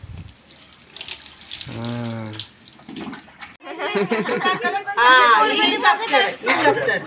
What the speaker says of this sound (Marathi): पाठीवर पण पडू दे पाणी